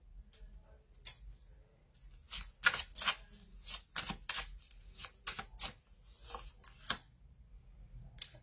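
Oracle cards shuffled and drawn by hand, a quick series of sharp snapping riffles and clicks in uneven bursts, close up against a quiet background.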